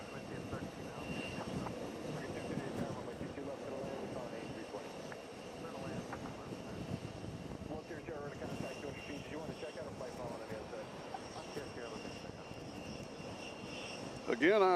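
An airliner rolls on runway 22 Left at JFK bound for Fort Lauderdale, its jet engines a steady broad roar throughout, with a sharp rise in engine noise right at the end.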